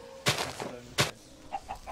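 Chicken clucks in the video game Mage Quest, two sharp squawks about a second apart followed by softer, shorter clucks, fairly close and with no talk over them.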